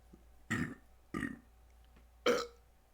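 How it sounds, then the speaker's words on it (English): Three separate burps in a row, the last one longer and rolling, close by with quiet pauses between them. "A little rolling burp there"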